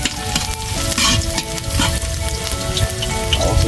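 Garlic and onion sautéing in a hot pan, a loud, dense sizzle and crackle with stirring scrapes, close up and continuous.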